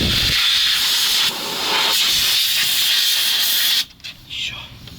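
Compressed air hisses loudly and steadily from a sandblast-damaged hose on a BRDM-2 armored amphibious vehicle, fed by a powerful compressor, then cuts off abruptly near the end, leaving brief softer bursts.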